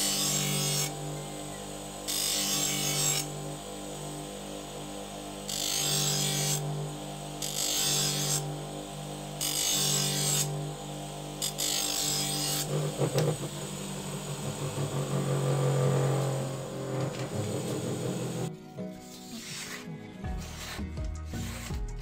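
A knife being sharpened with 1200 grit, the finest grade, on an expanding pulley wheel gives a steady, close rasping grind. The grind pulses in regular bursts, smooths out, then becomes choppy near the end.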